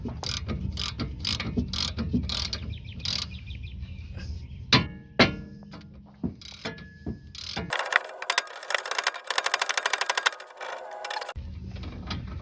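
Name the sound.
hammer smacking tie rod on a VW Fox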